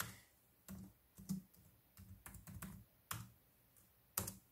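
Typing on a computer keyboard, a series of soft, close key clicks in irregular bursts with quiet gaps between them.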